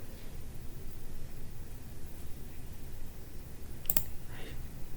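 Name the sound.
computer mouse clicks opening Task Manager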